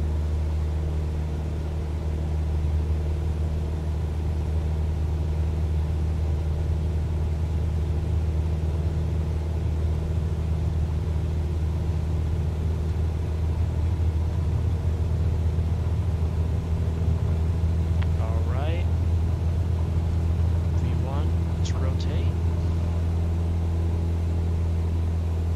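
A small airplane's engine runs at full throttle for takeoff from St. Paul, heard from the cabin as a constant deep, droning hum that holds steady the whole time.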